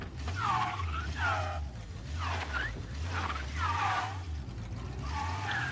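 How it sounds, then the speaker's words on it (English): The Flame Spear, a British sports car in the video game Mafia: Definitive Edition, runs its engine in repeated rising and falling revs with a low rumbling drone and squealing whines, close and fairly loud. "Wow, the engine is roaring"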